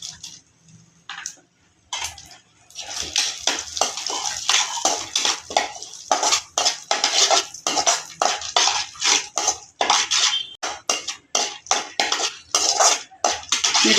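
Cashews and watermelon seeds stirred as they dry-roast in a pan for laddu, giving a steady run of rapid rattling scrapes and dry clicks, close and fairly loud, with a short quiet pause near the start.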